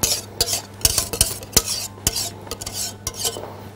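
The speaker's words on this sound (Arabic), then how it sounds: "وهنقلبهم مع بعض" Pudding and chocolate stirred together in a bowl: a spoon scrapes and clinks against the sides in irregular strokes, close and fairly loud, with no talking.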